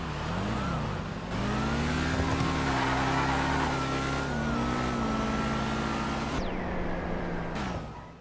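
Revving car engines in a GTA V drag race of Street Outlaws No Prep Kings style, several loud engines rising through gears together with shifting pitch, close and continuous.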